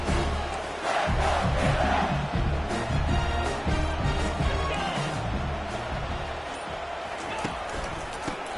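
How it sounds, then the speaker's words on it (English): A dense, roaring crowd fills a college football stadium during a Florida vs LSU game, loud and sustained with surges of cheering, under a commentator's voice. "The crowd noise feels louder."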